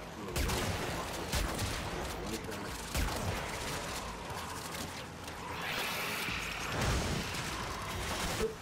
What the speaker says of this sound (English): I'm under fire here.